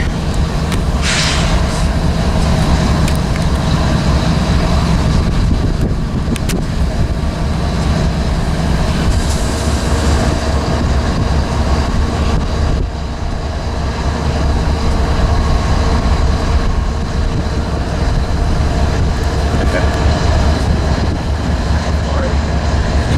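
Near Monolith in Tehachapi, the Lathrop northbound freight train rolls past loud and close with a steady rumble and rail clatter that fills the whole stretch, and a person speaks briefly over it.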